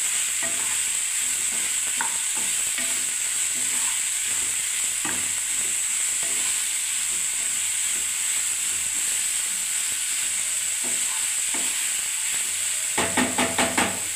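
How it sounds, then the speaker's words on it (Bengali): Cauliflower, potato and tomato fry in a pan, a steady loud hissing sizzle with occasional utensil scrapes and taps, ending in a quick run of sharp clatters, with no talking. "এবারে ভালো করে ভাজতে থাকবো বন্ধুরা এটাকে, ফুলকপি আলু টমেটোটাকে ভালোভাবে"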